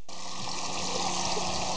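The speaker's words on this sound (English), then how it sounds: "This is essentially the flow rate of the water." Water rushing steadily from a tankless hot water unit on a camper, a constant close hiss of flowing water with no pauses.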